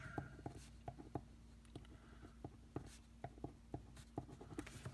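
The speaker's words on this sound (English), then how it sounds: "Then you need to write down the word SOHCAHTOA." Pen writing a word by hand on paper, a quick series of short scratchy strokes and taps at close range, quiet and steady with no voices.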